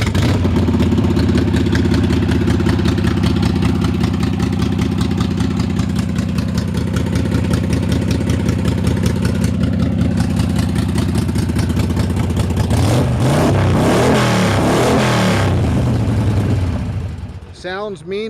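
A 2004 Harley-Davidson Sportster custom motorcycle engine rumbles loudly and close at a steady, throbbing idle, then revs up sharply near the end before cutting off.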